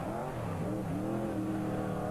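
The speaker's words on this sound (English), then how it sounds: "Craig Taylor heads his way around in car number 14." Race cars roar around the Rotorua speedway track, a loud continuous engine drone with shifting revs and pitch, close and steady throughout with no talk.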